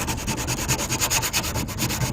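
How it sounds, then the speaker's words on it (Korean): Metal body putty on a car fender being hand-sanded with sandpaper, a close, loud, rhythmic back-and-forth rasping in quick even strokes with no talk. "높은 부분이 없도록 갈아주시면 됩니다"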